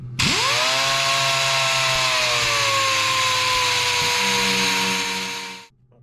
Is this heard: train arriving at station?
no